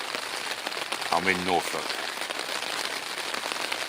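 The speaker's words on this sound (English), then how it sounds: "It's now getting close to 10:30 in the morning and it's still raining." Steady rain falls in Norfolk on a wet morning, a continuous patter on surfaces, while someone speaks briefly near the start.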